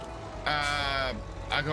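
A sheep in Farming Simulator 25 bleats once, a wavering drawn-out call, followed by a short second bleat, with a low background hum.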